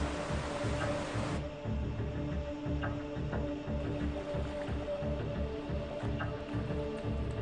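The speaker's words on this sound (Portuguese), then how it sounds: "Bombas imensas são ligadas e a água jorra para a enorme piscina." Huge pumps gushing water into a vast dock pool for moving a decommissioned Russian Typhoon nuclear submarine: a steady, loud mechanical roar and rumbling water rush, continuous throughout, with a brief brighter hiss at the start.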